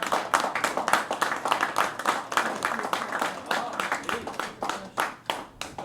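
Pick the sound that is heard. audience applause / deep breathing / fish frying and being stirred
audience applause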